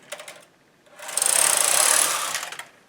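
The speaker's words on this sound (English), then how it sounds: "I'm just going to knit about 8 or 10 rows of waist yarn" Knitting machine carriage running rows of waste yarn for a ribbing bind-off, a loud whirring mechanical rush building and fading over about a second and a half, after a brief quieter clatter.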